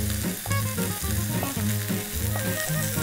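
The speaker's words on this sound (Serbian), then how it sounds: "sačekat ćemo malo da se proprži piletina" Chicken pieces sizzle in a frying pan, a loud, close, crackling fry with steady popping and occasional stirring clatter, continuing without talk for the whole span.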